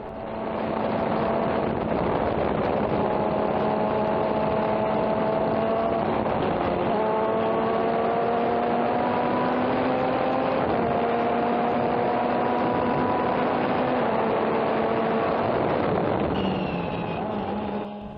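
Formula Atlantic race car at Sonoma Raceway passing Formula Mazdas, heard from onboard: a loud, steady engine roar throughout, with pitch climbing and dropping at repeated gear shifts.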